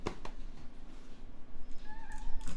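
A house cat meows softly indoors, a couple of faint rising meows near the end over a quiet, muffled room background.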